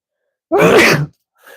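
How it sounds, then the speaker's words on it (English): A single loud, close sneeze bursts out, followed by a brief faint breathy sound after a pause. "Oh, hold on, one more is coming. One more sneeze."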